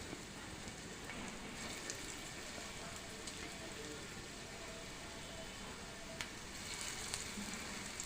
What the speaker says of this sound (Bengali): পাউরুটির মাখাটা থেকে একটু একটু করে নিয়ে পকোড়ার মতো করে আমি তেলের মধ্যে ছেড়ে দিচ্ছি